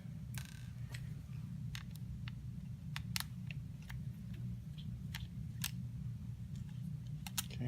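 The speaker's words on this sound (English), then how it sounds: "Take these two screws out." A star screwdriver backs screws out of an E4 pipette, making faint, sparse ticks and clicks over a low steady hum.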